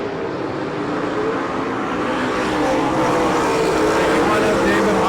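Open stock car engines roar as the field accelerates back to green at the Bakersfield, California Veterans Day Classic, a dense, steady wall of engine noise building slightly louder over the seconds, with a faint announcer voice underneath.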